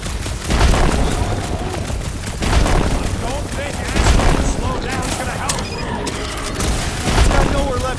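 Fireworks burst in the Guardians of the Galaxy video game as rolling booms and crackling volleys, loud and dense, with bursts recurring every couple of seconds while characters talk.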